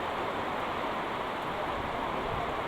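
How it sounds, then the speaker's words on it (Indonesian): Heavy rain with strong wind drums steadily on a garden hut in a banana plantation, a dense, continuous wash of noise at close range throughout, with no voices heard. "Angin, hujan angin kuat kieu"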